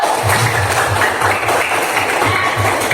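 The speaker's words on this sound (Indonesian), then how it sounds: "Nah, tepuk tangan untuk kita semua dulu" A classroom group of pupils clapping together in a steady, brisk rhythm, the claps dense and fairly loud throughout with faint room noise behind.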